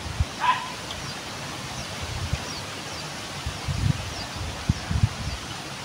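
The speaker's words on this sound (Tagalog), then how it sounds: "Grabe, lakas yung hangin." Gusty wind rustles through leaves at a soft, steady level, with occasional low buffeting thumps as gusts hit.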